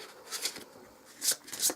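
Game cards for the Descent second edition board game are shuffled close by, with a few soft riffling bursts and clicks over roughly two seconds and no talking.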